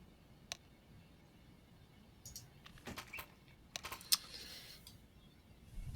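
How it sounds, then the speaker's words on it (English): Computer keyboards typed on by CS:GO players during a tactical timeout at an online esports match, with scattered faint clicks and taps building into a busier cluster of keystrokes over a low background hum. "Lots of typing now going on back and forth."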